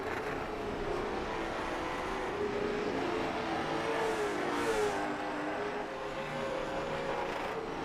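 Late model stock cars racing at Hickory on a night throwback event, their engines droning steadily with a rising, shifting whine as cars pass, moderately distant and continuous.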